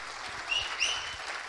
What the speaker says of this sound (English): One more round of applause for Max Keiser